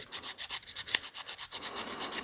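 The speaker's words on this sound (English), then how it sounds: "just tilt it up and just run the sandpaper over that" Sandpaper rubbed quickly back and forth over the contact of a 1970–1971 Lincoln Continental Mark III window switch, a close, rhythmic scratchy rasp with even strokes and one small click.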